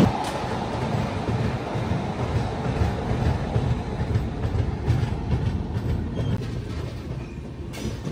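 A passenger train at Balangir Junction gives off a continuous low rumble with faint rail clatter, moderately loud and steady, with no voices.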